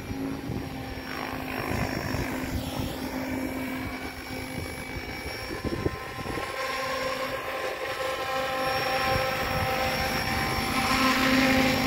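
A helicopter flies at sunset over the Liz River, its rotor and engine giving a continuous loud whirring drone that swells slightly toward the end.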